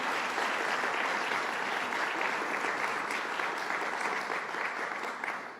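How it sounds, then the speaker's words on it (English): An audience at a New York State budget event on Long Island gives a sustained round of applause for Mary Fu, dense and even throughout, easing off slightly at the end. "Let's give a big round of applause to Mary Fu"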